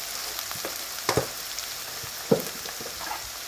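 Onions caramelising gently in butter in a pan give a soft, low sizzle throughout, with a couple of brief clinks of a utensil against the pan.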